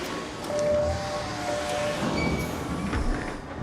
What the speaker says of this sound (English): I couldn't hear you over the train.